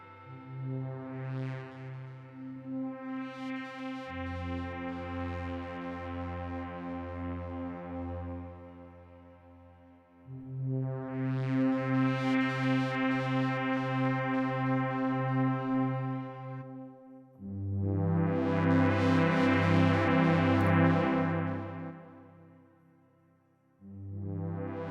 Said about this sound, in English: Let me let you hear the reverb alone.